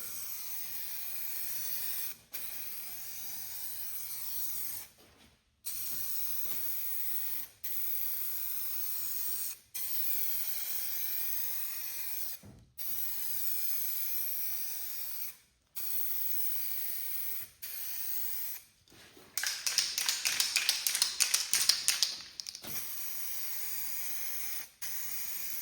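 Spray paint hisses steadily as a second, thicker coat goes onto a Cub Cadet Cyclops front nose piece, in long continuous bursts broken by brief pauses, with a louder, rougher spurt near the end.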